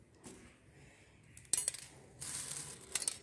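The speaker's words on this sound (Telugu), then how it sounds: "వేసుకుందాం, తామర గింజలు వేసుకుందాం." Lotus seeds dropped into a small vessel, a few brief clinking rattles with a longer scattering pour in the middle, close and fairly quiet.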